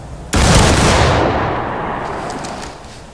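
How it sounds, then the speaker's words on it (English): A musket volley fires in War of Rights during a drill at 40-yard targets: one loud, sharp broadband crack that hits at once and then rolls into a long, fading rumble with no voices. "Take aim, right oblique, far right oblique to the 40-yard targets. Fire!"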